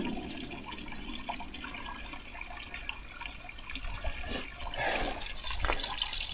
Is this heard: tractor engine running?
no